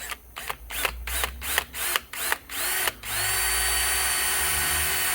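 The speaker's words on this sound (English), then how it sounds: "we're going to just drill a hole in here" Power drill boring a hole with a dull bit into a car near the alternator and battery case, in repeated short bursts with pauses, then one sustained whine as the motor runs continuously.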